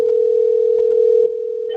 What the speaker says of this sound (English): You can hear my Lin phone